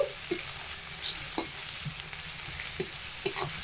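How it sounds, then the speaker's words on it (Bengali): Potatoes sauté with turmeric powder in a pan, a quiet, continuous sizzle broken by soft scraping stirs and occasional light clacks of the spoon against the pan. "এবার এগুলোকে খুব সুন্দরভাবে কষিয়ে নিচ্ছি"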